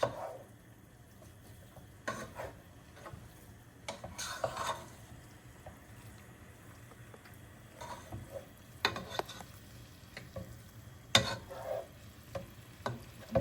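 Two pounds of meat browning in a pan for chili give a quiet, steady sizzle, with occasional clinks and scrapes of a utensil stirring against the pan.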